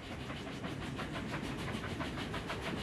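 Trains crossing the rebuilt Rhine bridge between France and Germany, a steady rhythmic clickety-clack of wheels over rail joints with a continuous rumbling roll, moderately near and alone.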